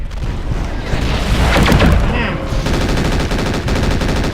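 Weapons fire in MechWarrior 4: Mercenaries, loud rapid bursts of mech gunfire and booming impacts, with a swelling blast around the middle and then a steady rattle of repeated shots.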